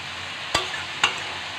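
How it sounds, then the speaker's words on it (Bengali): Garlic, green chili, chopped capsicum and shredded cabbage fry in a pan under a soft sizzle, broken by two sharp spatula scrapes about half a second apart. "সবজিটা একটু ভালো মতো ভেজে নেবে।"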